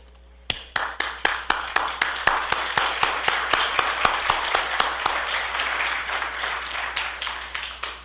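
Audience applause at a Snellville city meeting begins abruptly with sharp, separate claps from a small crowd, then thickens into steady, close clapping that holds for several seconds before thinning slightly.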